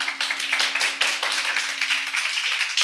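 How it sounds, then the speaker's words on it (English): Audience applause at a high school Student Council election rally, a steady patter of hand claps filling the space for about three seconds with no talking over it. "Let us give them a round of applause."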